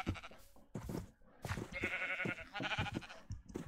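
Sheep in the video game Minecraft bleat repeatedly in overlapping, wavering calls, fairly close and moderately loud, with no talk over them.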